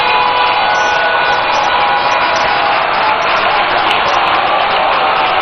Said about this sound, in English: a rousing round of applause for the Right Honorable Speaker of Parliament, Alban Sumana Bagbin.